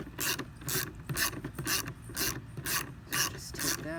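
A wrench ratchets rhythmically while backing out a 10mm bolt on the headlight bracket of a Lexus IS, a steady series of close, clicking pawl strokes with no talk.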